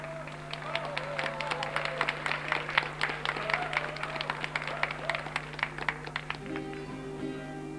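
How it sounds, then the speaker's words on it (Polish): Audience applause at a ball, many hands clapping in quick dense strikes over a steady low hum, fading toward the end as a voice briefly speaks. "może większe brawa dostaniemy"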